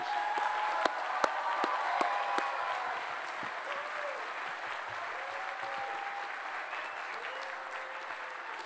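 A crowd claps in steady, sustained applause for graduates at a university doctoral hooding ceremony, fading slightly toward the end, with a few faint tones in the background.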